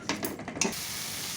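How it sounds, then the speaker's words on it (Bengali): Spice powder is stirred into frying masala for a boal fish curry, giving a few quick scraping strokes at the start before settling into a steady soft sizzle, fairly quiet and close. "আর 1 মিনিট মতো নেড়ে নিতে হবে যাতে কি হয়, ভালোভাবে এই গুঁড়োটা মশলার সাথে মিশে যায়"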